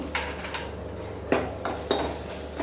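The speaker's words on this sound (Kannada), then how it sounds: "ತುಂಬ ಫ್ರೈ ಮಾಡಬೇಡಿ, ಮನುಕನ ಸೀದೋಗ್ಬಿಡುತ್ತೆ." Raisins fry in a pan for a traditional Karnataka-style moong dal payasam. A soft sizzle sits under a few sharp clinks and scrapes of a spoon against the pan, spaced irregularly and close by, with no talking.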